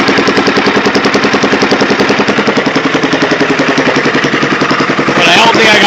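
A 14 HP Kohler engine runs with no muffler fitted, giving a loud, steady, rapid popping exhaust beat close by for the whole stretch, with a brief added clatter near the end.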